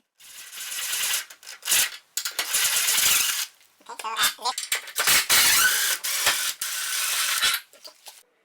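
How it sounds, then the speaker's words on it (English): An impact driver with a 6mm hex bit removes bolts from a Sole F80 treadmill during deck replacement. Several loud, rattling bursts of hammering come close up, separated by short pauses. "I used an impact driver with a hex bit, size 6mm"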